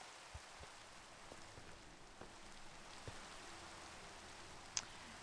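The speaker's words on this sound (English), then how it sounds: "And now it's raining." Soft, steady rain patters in a video game, faint and continuous, with a few light drops and taps standing out over the wash of noise and no talking.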